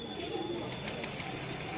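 An old green pigeon of a long-established bloodline coos softly, low throaty calls repeating close by against a quiet background hum.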